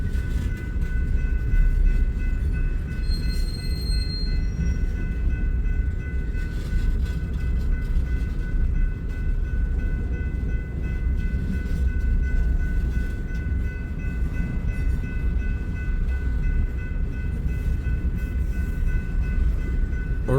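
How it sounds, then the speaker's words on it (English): A manifest freight train rolls into a rail yard, a continuous low rumble of cars lasting throughout with faint high tonal squeals above, heard from a moderate distance without talk. "I'm wondering if maybe this manifest that's coming in the yard came out of Omaha."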